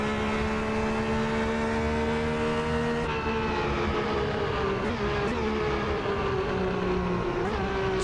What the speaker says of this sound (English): Going down through the box there, you can see that auto blip, very nice